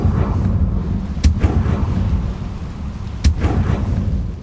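A Confringo fire-blast spell explodes in the video game Hogwarts Legacy, two sharp cracking blasts about two seconds apart over a low rumbling game backdrop.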